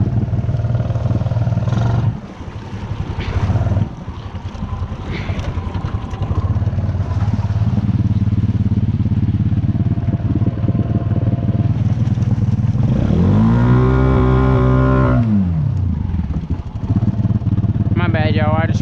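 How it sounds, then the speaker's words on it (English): A motorcycle engine drones loudly on a night ride, then revs sharply up to the rev limiter and back down in a rising and falling whine, with a voice over the roar. "You gotta hit the rev limiter every now and then."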